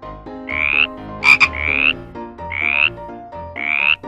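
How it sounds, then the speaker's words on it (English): A frog croaks four times in a steady rhythm, each call a loud, close, raspy burst with a sharper double chirp between the first two calls and no talking. "Frog."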